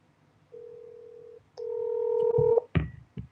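Telephone dialing tones on a phone call: a long steady tone, a short gap, then a second longer two-tone beep, followed by a couple of short thumping clicks, close and clear.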